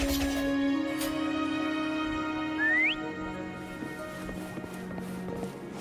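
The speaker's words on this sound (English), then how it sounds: "Why don't you call Foam over? Try whistling" In a video game, a short rising whistle call sounds over a steady musical drone, followed by soft, rhythmic horse hooves approaching in the background.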